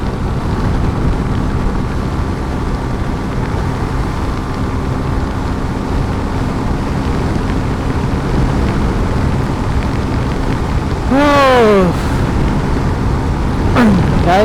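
A vehicle riding on an open road near Comilla Cantonment, with loud, steady rushing wind and engine roar buffeting the microphone and a couple of passing horn blasts near the end, with no speech.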